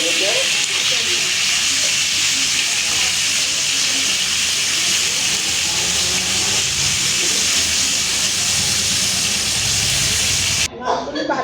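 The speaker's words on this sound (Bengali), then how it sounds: "তেলটা গরম হয়ে মাছ দিয়ে দিলাম" A tilapia fish head drops into hot oil in a kadai for a dish with papaya and potato. It gives a loud, dense, unbroken hiss for about eleven seconds that cuts off sharply near the end.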